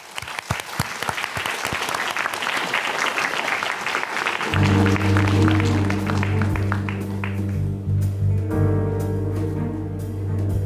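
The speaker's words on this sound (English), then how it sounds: "Let's give a warm applause to a very talented singer and our association member" Audience applause for a singer at a large unity event, a dense burst of clapping for several seconds that then gives way to sustained musical tones as the clapping fades beneath them.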